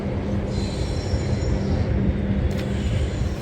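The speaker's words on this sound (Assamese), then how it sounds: "পৰত আকৌ ট্ৰেইন গৈ আছে" A passing train rolls by steadily and loudly near Kashi, its wheels squealing over a continuous rumbling roar of rail cars with no talk.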